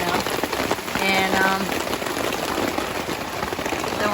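Steady rain patters on a camping tent's tarp and porch overhang on a wet day in the North Georgia woods, a dense continuous hiss throughout, with a brief tonal sound partway through.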